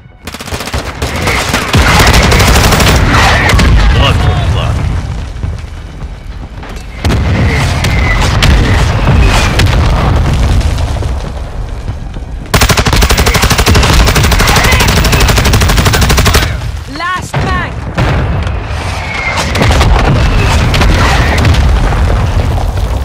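Mortar strike explosions mixed with dense automatic gunfire in Call of Duty: Modern Warfare II, loud booms and rapid rattling bursts coming in several long intense waves with short lulls between them.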